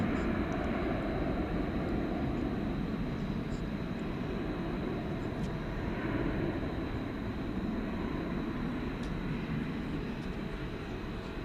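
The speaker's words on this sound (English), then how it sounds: "American 2098 to Durango, a turn-of-the-century Airbus A319" Airbus A319 jet of American Airlines heading out for takeoff at DFW Airport at night, a steady broadband engine roar with low rumble, held at fairly constant level throughout, moderately distant.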